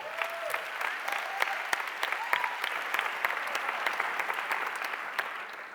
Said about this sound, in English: Please give me a full applause to Victoria.